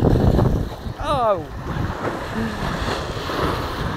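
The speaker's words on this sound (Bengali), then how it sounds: "কি তর্জন গর্জন সমুদ্রের।" Surf rolls in continuously along the Bay of Bengal shore, a loud, close wash with wind buffeting the microphone. People talk nearby over the roar of the waves.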